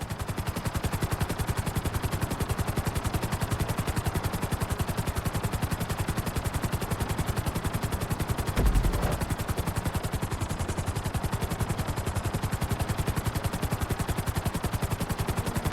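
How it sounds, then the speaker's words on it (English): A video game helicopter roars steadily and loudly through a flight school course, its fast rotor chop pulsing evenly and continuously with no talk. "we'll see how well you handle the chopper"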